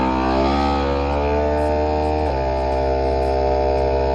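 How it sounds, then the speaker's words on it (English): A vacuum sealer machine drones with a steady electric hum, shifting pitch slightly partway through, continuous and close with no voices. "Put them in the vacuum cleaner."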